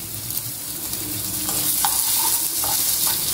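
Onion with a pinch of salt frying in a pan, a steady close hiss of sizzling throughout with a few brief scraping stir sounds over a low background rumble.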